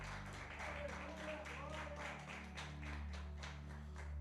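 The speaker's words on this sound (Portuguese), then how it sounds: "Você pode aplaudir o Senhor por esta palavra." A church congregation applauds together after a sermon passage, steady dense clapping filling the space at moderate distance, with a low sustained organ or keyboard tone underneath.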